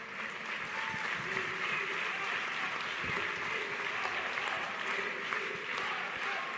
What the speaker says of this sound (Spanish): os pido un gran aplauso para el compañero Mayeb Dibsi, representante de la izquierda palestina